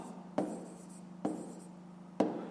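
A pen writing numbers by hand for a fifth-grade math exercise, three short scratchy strokes spaced apart, close and quiet.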